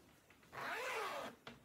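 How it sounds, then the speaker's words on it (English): A concealed zipper on a handmade cushion cover is pulled closed in one smooth, steady rasping stroke of about a second, close and clear, followed by a brief click. "So now we should have a working zipper."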